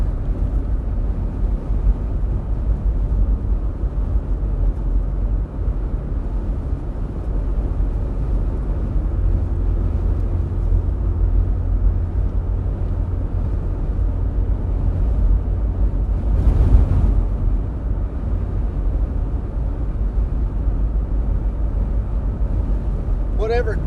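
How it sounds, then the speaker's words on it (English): A strong wind roars steadily and loudly against the microphone outdoors, a constant low rushing that swells briefly near the end. "that wind is just ripping it"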